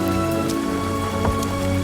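Steady spring rain falls and patters on surfaces, a dense continuous hiss that stays loud throughout the short stretch.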